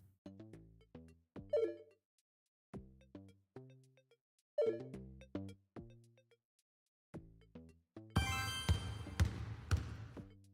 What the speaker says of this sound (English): a couple basketballs.